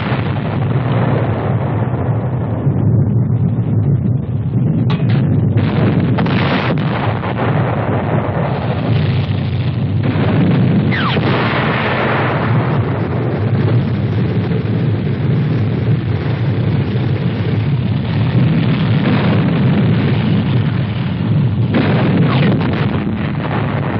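A tank fires its main gun directly in a 1957 US Army armored demonstration, with heavy booms and rumbling blasts over a constant roar of wind and engine noise throughout.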